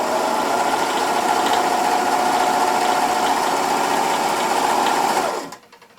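A serger stitching a flatlock seam on fabric runs at a fast, steady motor whir with rapid stitching chatter, close and loud, then stops abruptly near the end.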